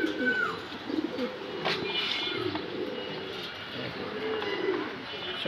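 A female racing pigeon coos softly in low, rolling murmurs, quiet and close, with faint background noise around it.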